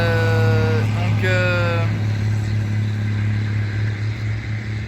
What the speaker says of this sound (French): On attend que le tracteur passe.